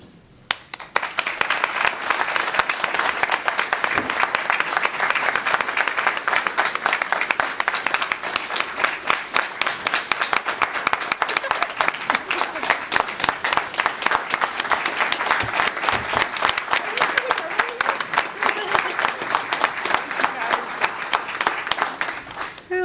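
Audience at a Tulsa Public Schools event giving sustained, even applause, a dense rapid patter of many hands clapping steadily for over twenty seconds, close and loud.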